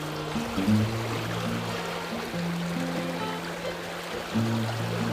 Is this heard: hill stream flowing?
yes